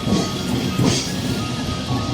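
Steady low rumble inside a local train near Tarkeshwar, West Bengal, a continuous broadband drone with faint clicks and a brief swell near the middle, no voices.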